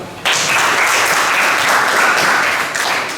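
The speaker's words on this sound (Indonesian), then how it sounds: "Untuk Siska, kita berikan tepuk tangan dulu." A classroom of students bursts into steady, dense applause for a classmate during an Indonesian history lesson, loud and close, holding for about three seconds.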